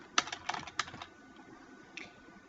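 Someone types on a computer keyboard while entering database field settings: a short burst of sharp, close key clicks, followed after a pause by a few more taps, with no speech.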